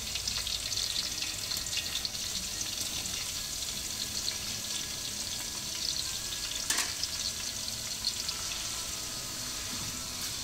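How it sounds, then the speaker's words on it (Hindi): Onions fry in a pan of roasted spices with a steady, hissing sizzle that holds evenly throughout, a single sharper clatter partway in, heard close with no voices. "अभी हम इसमें प्याज मिला रहे हैं"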